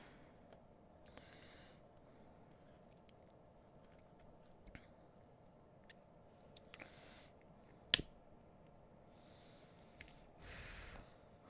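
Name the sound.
scissors cutting necklace cord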